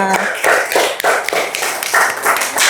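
Children in a classroom clap together in quick, uneven bursts, a steady run of sharp slaps that fills the whole stretch at close range.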